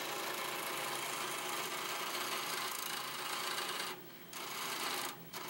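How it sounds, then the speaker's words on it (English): Wood lathe turning a table leg, a steady dense whir of cutting across the clip with two short dips where the tool lifts off the spinning workpiece. "we cut out 3 remaining legs I'm going to put on my lathe and turn"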